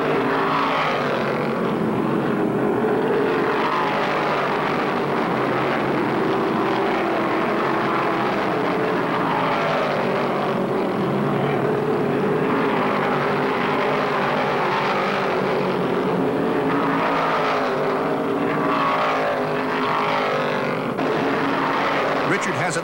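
Stock cars at the 1972 Virginia 500 at Martinsville roar continuously as the pack restarts, a dense steady engine drone filling the whole stretch with a race commentator talking over it.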